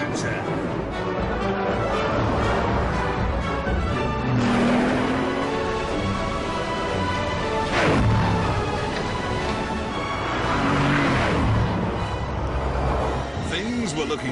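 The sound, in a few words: Bugatti Veyron accelerating at full throttle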